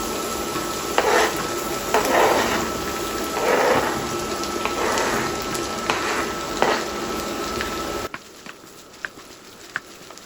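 Okra sizzles loudly in a pan with carom seeds, with intermittent stirring bursts and spoon clinks over a continuous hiss before it suddenly drops to a quieter crackle near the end.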